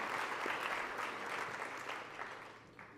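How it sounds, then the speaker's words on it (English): A banquet audience at an agri-business dinner applauds for the FFA, the dense clapping fading gradually toward the end. "Let's give FFA a round of applause for that."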